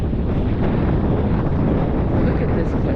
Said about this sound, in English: Really windy and cold in here